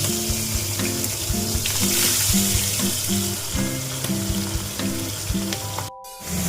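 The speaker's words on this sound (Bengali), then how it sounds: "তেলটা গরম হলে মাছগুলো আমি ভেজে নেবো এক এক করে" Pomfret fish frying in hot oil, a loud, close, steady sizzle with faint rhythmic tapping beneath, cutting out abruptly near the end before resuming.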